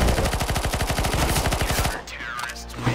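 Rapid automatic fire from a PP-Bizon submachine gun in the shooter game CS:GO, a loud burst of evenly spaced shots for about two seconds before cutting off into a quieter tail.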